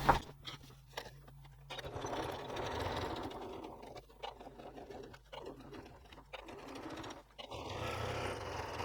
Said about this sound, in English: And then I'm going to top stitch around sides and bottom.